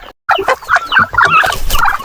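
Turkeys and chickens calling together on a small backyard farm, with repeated nasal gobbling and clucking bursts that follow a brief silence and keep going close and loud.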